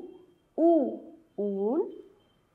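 Two distinct owl hoots, each a rising, wavering call, close and clear with a short pause between them.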